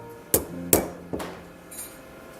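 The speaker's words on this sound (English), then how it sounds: "The hammer is crucial to aligning the blades correctly." A hammer taps metal scissor blades three times in a slow, evenly spaced rhythm, each strike a sharp ringing clink, followed by lighter faint ticks.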